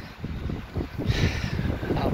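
Strong wind buffets the microphone beside a mountain lake, a loud, continuous gusty rumble with a brief rise in the middle, and a voice speaks over it.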